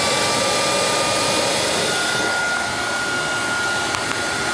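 Heat gun blowing on a hard plastic part of a riding mower, a constant loud rushing hiss held close with a slight shift partway through and a couple of faint clicks.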